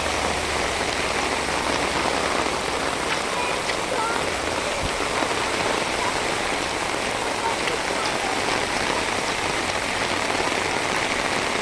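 Heavy monsoon rain pours down in the Konkan, where floodwater is entering farm fields, making a dense, constant roar that holds at the same level throughout with no break.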